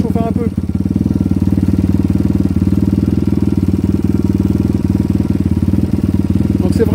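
A 2024 CRZ 160 XDURO motorcycle engine idles while warming up after a kick start, a close, loud, steady low chugging putter that holds throughout.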